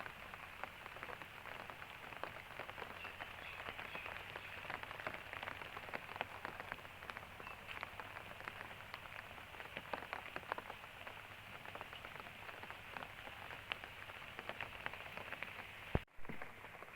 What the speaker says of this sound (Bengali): বৃষ্টির মধ্যে বাহিরের পরিবেশ।